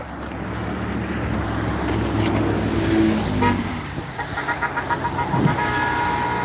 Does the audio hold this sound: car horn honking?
yes